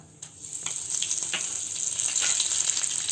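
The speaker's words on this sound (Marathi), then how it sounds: "त्याच्यामध्ये आपण आता मोहरी घालून घेऊ मग कढीपत्ता" Mustard seeds and curry leaves crackle in two spoons of hot oil in a pan, a steady sizzling hiss that swells after a quiet start, with scattered sharp pops throughout.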